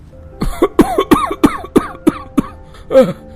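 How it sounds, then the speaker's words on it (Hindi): A cartoon character coughs hard about eight times in a quick rhythm, then gives one last rougher cough after a short pause, close by. "इस खांसी ने तो नाक में दम कर दिया भाई"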